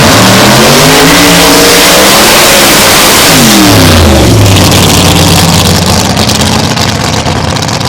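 A Top Alcohol Funny Car drag racing engine revs very loudly and close, climbing in pitch in repeated surges, then settling into a harsh roaring rumble.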